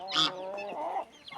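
A rooster inside a henhouse, one of three kept there, gives a short, close, harmonic call lasting just over a second, with a brief second call starting at the end.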